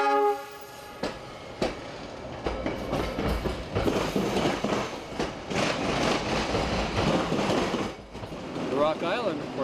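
A Metra commuter train runs along the rails near Joliet, clattering loudly with rhythmic wheel thumps and a rising rumble, a horn sounding briefly at the start and a tonal squeal near the end.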